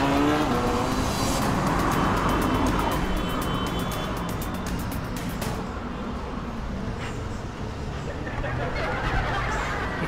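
A motorcycle roars past close by, a loud, continuous engine drone that fills the whole stretch and eases slightly toward the end, with faint voices underneath.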